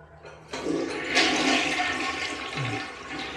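A campsite bathroom toilet is flushed, a loud rushing surge of water close by that starts abruptly, then keeps draining and gurgling steadily with no voices.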